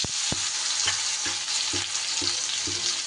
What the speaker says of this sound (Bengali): তেল গরম হয়ে গেলে উচ্ছেগুলো আমি ভেজে নেব।